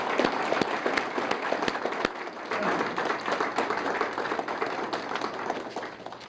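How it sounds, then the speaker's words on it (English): An audience claps for an honored family at a racer room dedication and ribbon-cutting ceremony, a steady, moderately loud patter of many hands with sharper individual claps standing out, no voices over it. "let's give them a round of applause"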